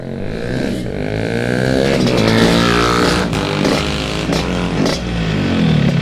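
A Yamaha RX King two-stroke motorcycle exhaust rasps loudly up close, revving up and down in rising and falling sweeps with a crackly, buzzing edge.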